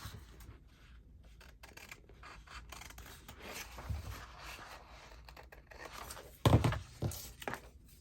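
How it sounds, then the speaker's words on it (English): Paper trimmed for a handmade notebook, with soft rubbing and rasping cuts, then a few louder scissor snips and thunks near the end, close and fairly quiet. "I want to trim off this little bit here."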